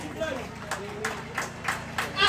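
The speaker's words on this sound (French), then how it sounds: "Applaudir pour nous, s'il vous plaît." An audience at a food fair claps in a loose, uneven rhythm of separate claps, heard under steady crowd chatter and a voice talking nearby.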